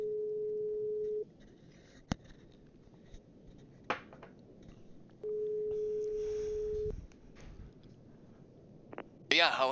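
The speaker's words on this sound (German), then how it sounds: "wir wollten ja nochmal Arthur anrufen" A phone ringback tone in the horror game The Darkness Within sounds as two long steady tones, each lasting a few seconds and separated by a pause, with a few clicks in between and a burst of noise at the end.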